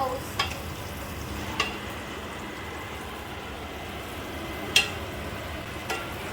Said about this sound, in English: Now we're flipping the ribs.